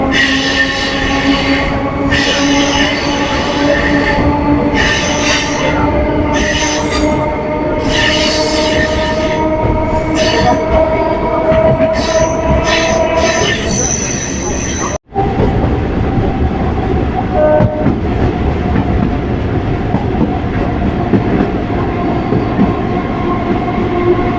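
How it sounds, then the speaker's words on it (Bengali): A Budge Budge local train pulls out of Majerhat station, its wheels squealing and grinding loudly and continuously along the rails, with a brief horn-like tone before the running noise settles into a steady, slightly quieter rumble. "আমাদের ট্রেনটা এই মুহূর্তে মাঝেরহাট স্টেশন থেকে ছেড়ে চলে যাচ্ছে বজবজের উদ্দেশ্যেই"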